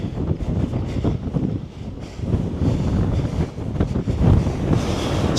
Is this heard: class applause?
no